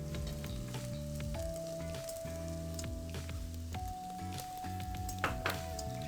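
Onion jam caramelizing in a pan gives a soft, steady sizzle with occasional stirring and faint clinks. Sustained tonal music plays over it, and the cooking sits low in the mix.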